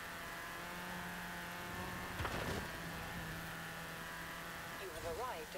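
A 1999 Ford Racing Puma in Forza Horizon 4 drones along with a steady, tonal engine note at moderate volume, holding a constant pitch. A brief wavering electronic voice-like sound appears near the end.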